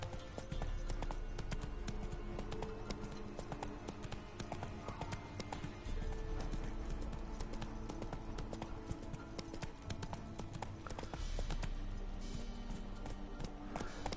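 Horse hooves clip-clop in a steady galloping rhythm in the Witcher 3 video game, continuous and prominent over a dense game soundscape, with no talk.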